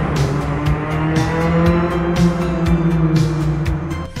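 An Alpine sports car drives hard on a road in Osaka, Japan, with a loud, sustained engine note and repeated tire squeals that rise and fall throughout, close and dominant.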